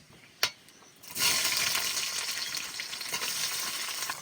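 Sliced onion with garlic cloves drops into hot mustard oil with cinnamon, cardamom, cloves and peppercorns, a sharp tap followed by a sudden loud hiss that settles into steady, close sizzling.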